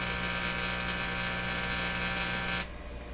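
An FM sweep generator signal coming through a Nordmende Caruso console radio during IF alignment, a steady, loud, harmonically rich buzz at 60 thumps a second that cuts off abruptly near the end, leaving a quieter hum.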